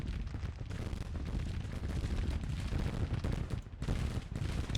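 Cannon and musket fire rumble on a Civil War strategy game battlefield, a dense, continuous barrage of booms and crackling volleys with no pause, loud and close throughout.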